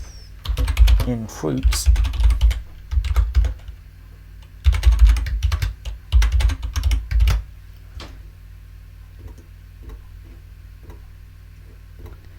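Rapid clattering keystrokes on a computer keyboard while Python code is typed, coming in short bursts with pauses, close and crisp, as a voice speaks briefly over them.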